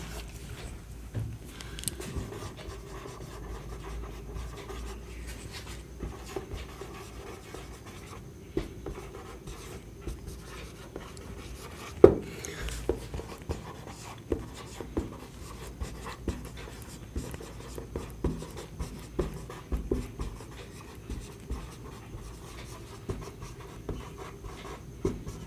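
Pen or pencil scratching chemistry notes onto paper makes soft, irregular strokes and taps close by, with quiet room noise and no speech.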